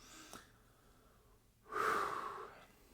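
Heavy breathing from someone out of breath: a faint breath near the start, then a loud, close, rushing exhale or panting breath lasting most of a second, with no talk.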